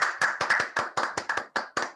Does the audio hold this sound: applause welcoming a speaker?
yes